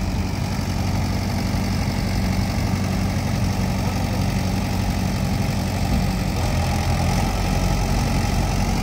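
A Mahindra 585 or New Holland 3600 tractor hauling a fully loaded trolley, its engine a loud, steady, low drone that holds without a break throughout, with no voices.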